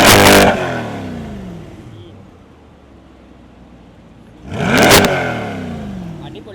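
Chevrolet Corvette Stingray V8 exhaust blipping in two loud, close revs, one at the start and another near the end, with a lower rumble idling in between.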